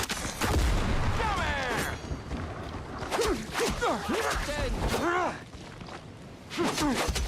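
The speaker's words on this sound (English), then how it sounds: "Oh, grenades!" Grenades go off in the pirate game Windrose amid a chaotic fight, with several sharp blasts and crackling bursts scattered through the scene, mixed with clashing effects and brief vocal sounds.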